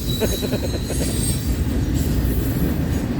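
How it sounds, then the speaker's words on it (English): A freight train rolls past close by in Fremont, Nebraska, a steady loud rumble of railcars with rhythmic wheel clatter and a high squeal from the wheels running throughout, with no talking. "There's a westbound manifest coming off the CNW onto the Transcon line here in Fremont, right behind this train"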